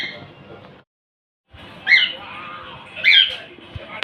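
Birds squawk loudly nearby, two sharp harsh calls about a second apart over faint background noise, following a brief silence.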